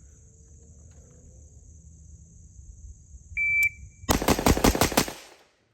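A rapid string of gunfire from a KAC MRE carbine on an outdoor shooting range, about five or six close, loud shots fired in quick succession after a short electronic beep from a shot timer, then silence.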